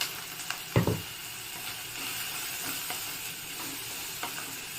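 Sliced onions with salt sauté in a pan for an onion thokku, giving a soft, steady sizzle broken by a few scraping stirs of a spoon against the pan, quiet and close.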